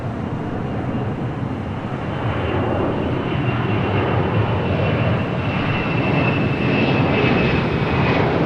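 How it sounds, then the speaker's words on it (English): A Delta 767-300ER jet airliner rolls for takeoff at LAX, its engines building to a loud, sustained roar with a rising whine, steady and close throughout with no talk. "Swing it back to the north side as we do with that Delta 767-300ER heading to JFK."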